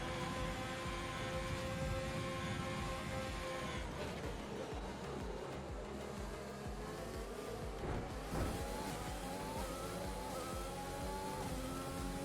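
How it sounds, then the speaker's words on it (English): Formula 1 cars in the racing game F1 2020 on the Hungarian GP track, engine whines rising and falling in pitch as cars accelerate and pass, a steady loud mix of several engines. "Very, very fast cars moving through here"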